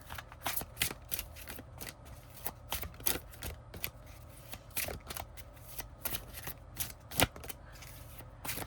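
Angel and archangel oracle cards being shuffled by hand, a steady run of crisp riffling flicks and soft papery slaps, close and fairly quiet with no talking.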